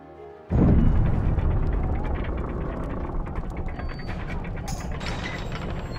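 A jammed door mechanism grinds and creaks in a pirate video game, starting abruptly with a loud mechanical ratcheting that continues steadily for several seconds, close and alone with no talk.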